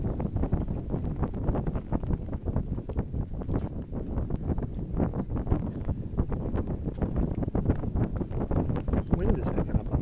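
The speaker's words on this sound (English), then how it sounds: "Wind is picking up on this side." Steady wind buffets the microphone on a foggy mountain trail near Hong Kong's Peak, just past a bamboo forest, a continuous loud rush with rustling gusts and footsteps throughout.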